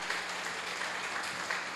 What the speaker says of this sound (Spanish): Un aplauso para mi hermano